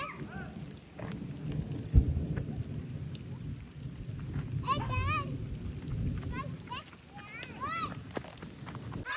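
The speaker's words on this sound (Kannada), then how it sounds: "ಮಳೆ ಬರ್ತಾ ಇದೆ ನೋಡಿ" Rain falls steadily around a house in the Malnad hills, a soft continuous hiss with one sharp thump early on, while chirping calls rise over it midway through.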